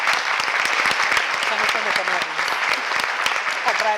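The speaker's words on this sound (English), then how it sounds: "Since you are clapping or applauding" Steady audience applause at a panel discussion, dense clapping from many hands filling the room, with a voice briefly heard over it near the end.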